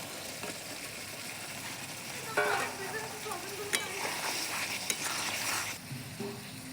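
Fried soybeans and tomato sauce for soy chili sizzle steadily in a pan, a continuous bright hiss with a few clinks and scrapes of stirring partway through.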